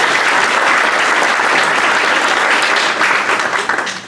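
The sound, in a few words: round of applause at Rotary meeting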